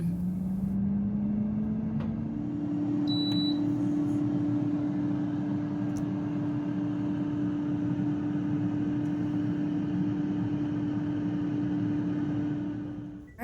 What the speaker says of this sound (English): I'm going to stick my chicken nuggets in the air fryer and let them cook for 10 minutes